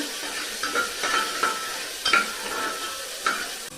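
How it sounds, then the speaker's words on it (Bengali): Onion frying in a little oil for chicken soup, a gentle hissing sizzle punctuated by a few sharp clicks of a spoon against the pan. "সামান্য একটু তেল, পেঁয়াজ, পেঁয়াজটা ভেজে নিচ্ছি"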